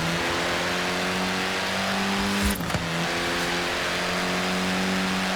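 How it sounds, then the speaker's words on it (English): Classic Mini Cooper S with twin carburetors in Forza Horizon 4, its engine droning steadily at high revs up close, with a brief gear-change dip midway before settling back to a constant hum. "The Mini Cooper S was built to be a performance machine"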